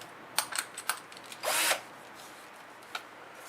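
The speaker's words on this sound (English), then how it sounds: "So we need to drill out the control holes." A power drill drilling out control holes whirs in a short burst of about a quarter second, preceded by a few clicks and taps, close by and otherwise quiet.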